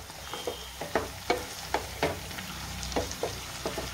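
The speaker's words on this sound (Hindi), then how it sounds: "गरम मसाला, सारी चीज़ों को अच्छे से चला लेते हैं।" A spoon stirs masala with garam masala frying in oil, giving a steady series of scraping strokes against the pan over a soft, continuous sizzle. The sound is close, and no one speaks.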